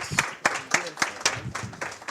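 Audience at a hackathon finale clapping for the contestant teams, a thin, sparse round of claps with distinct hand strikes spaced roughly every quarter second, fairly quiet, with faint voices mixed in.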